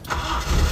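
A car engine catching on a single turn of the starter and running steadily, loud and close for a brief moment with no talking.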